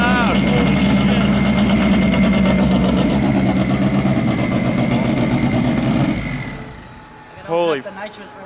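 A 1200-horsepower Honda S2000 drag car with a stroked F20C engine roars loud and close, steady and rough for about six seconds, then cuts back to a lower idle with a brief revving burst, while a voice speaks over it.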